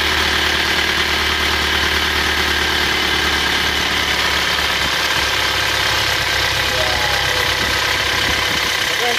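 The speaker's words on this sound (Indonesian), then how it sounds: "Suara mesinnya juga kurang halus ini lur ya." Rough-running Isuzu Panther Touring Matic diesel engine idling after new liners were fitted, a loud, continuous uneven clatter and rumble with knocking, heard close by and without break throughout.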